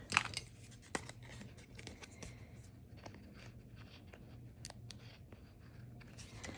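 Small scissors snip a few times in a quiet room while trimming pie crust, the crisp cuts faint and scattered with soft handling noises between them.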